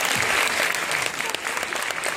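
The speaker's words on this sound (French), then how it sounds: "on peut quand même les applaudir très fort" An audience at a hypnosis show claps loudly and steadily, a dense continuous patter of many hands close by, with a voice faintly heard beneath.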